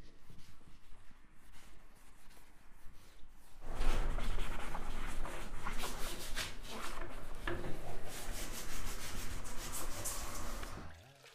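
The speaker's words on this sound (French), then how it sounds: "Le but est bien de nettoyer tous les supports qui seront peints." Bathroom wall and floor surfaces being scrubbed clean before painting. A quiet start gives way to sustained, loud, close rubbing and scouring strokes in an even rhythm, and the scrubbing stops abruptly near the end.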